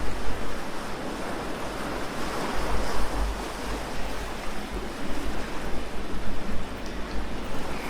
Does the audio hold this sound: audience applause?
no